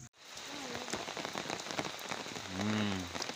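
Steady rain patters on a surface in a village, a close continuous hiss with scattered drips, joined briefly by a faint animal-like bleat toward the end.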